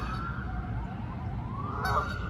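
Geese honk at a distance outdoors in a brief burst of calls, with a rising siren-like wail from a passing police vehicle blending in behind them.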